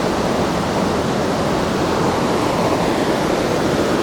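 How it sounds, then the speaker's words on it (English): Dumluke Creek near Mount Hope, West Virginia, running at its normal level: a dense, steady rush of flowing water, loud and close, with no breaks and no voices. "I've seen Dumluke Creek running normal"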